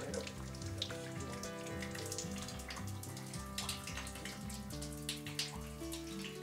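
Snowmelt drips in a stone canyon, a steady patter of quick water drops over a faint trickling background, distant and quiet, with no voices.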